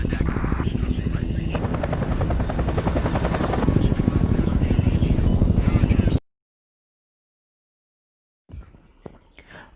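Military helicopter flying at night over hills for a troop drop: loud, steady rotor thumping and engine drone close by for about six seconds, then an abrupt cut to silence before faint scattered sounds return.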